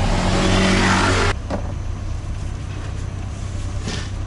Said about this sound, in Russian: мы, значит, садимся в такой басик